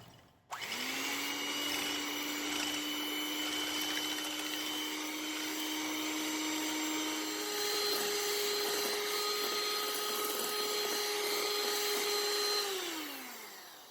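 An electric hand mixer whips egg whites with cream of tartar toward soft peaks for a Japanese cotton cheesecake, a steady loud motor whine that shifts pitch slightly midway and then winds down at the end, with no voices.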